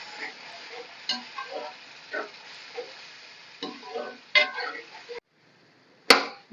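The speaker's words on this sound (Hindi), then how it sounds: "जो मैं 2 टमाटर थे वो मैंने पेस्ट बनाया है वो डाल रही हूँ। इसकी अच्छी तरह बुनाई करके" Spices and tomato paste being stirred and sautéed in a pan for an egg and onion curry make soft scraping and light sizzling, with irregular spoon clinks and one sharp knock near the end.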